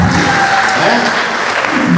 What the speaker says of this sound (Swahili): Hebu tuwapigie wanakwaya wetu makofi.